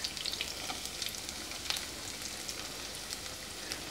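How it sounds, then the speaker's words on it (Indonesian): Shallots and garlic fry in hot oil with a steady, close sizzle and scattered crackling pops, occasionally stirred, with no talking. "Terlebih dahulu Simbok akan menggoreng bawang merah dan bawang putih."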